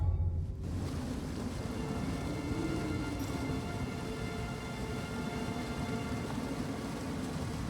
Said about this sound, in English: The storm just blew through